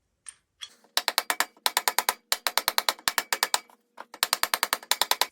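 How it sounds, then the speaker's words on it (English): A 1 1/8 inch socket on a ratchet turns a nut on a Willys Jeep brake drum, a close, loud run of rapid clicking bursts broken by short pauses between strokes. "with 1 inch and 1/8 socket, tighten up the nut"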